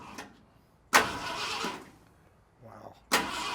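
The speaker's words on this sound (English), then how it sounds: "Just crank it over. Just crank it." A 1972 Ford F250 pickup with a 390 V8, parked since 2007, cranks over in two short bursts separated by a quiet gap, close and fairly loud, with a voice speaking briefly between them.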